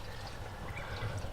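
Water runs steadily from a hose pipe onto a Land Rover Discovery 2, a brief continuous splashing rush with no voices.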